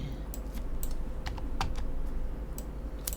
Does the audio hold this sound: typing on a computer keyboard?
yes